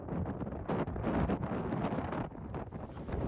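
Strong wind buffets the microphone on the open walkway leading to Mont Saint-Michel, a continuous rough roar with gusts swelling and easing throughout, no voices.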